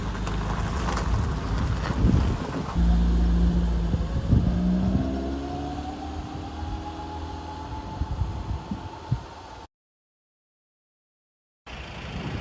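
A mid-80s Volvo 340 hatchback with a DAF Variomatic transmission drives along the road with a steady engine drone and rushing road and wind noise. The sound cuts out briefly near the end, then returns.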